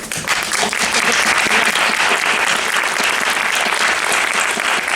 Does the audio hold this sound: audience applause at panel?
yes